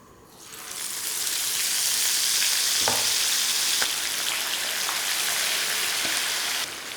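Chicken pieces dropped into very hot oil for a Kerala-style fry, erupting into a loud, dense, rain-like sizzle that holds steady for several seconds before easing slightly, with a couple of faint clinks.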